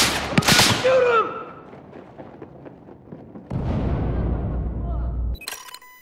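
Gunfire in the shooter Battlefield 4, a sharp burst of shots at the start followed by a dense rumbling stretch of battle noise, loud and close, with a voice speaking.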